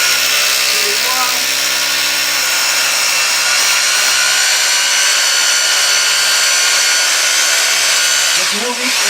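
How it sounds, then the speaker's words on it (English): An electric drill machine bores into a wall, its loud, steady whine running almost without a break for several seconds and fading briefly near the end. "Take it more easily and carefully, and just drive the drill bit to the wall."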